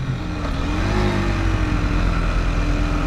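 A 2019 Kawasaki Z125 motorcycle engine holds a steady, close, loud drone with a slowly rising and falling pitch, like a sustained rev while riding, with no talking.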